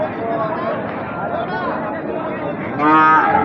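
A Sahiwal breed bull calf lets out a moo near the end, rising over steady background chatter and voices of people nearby.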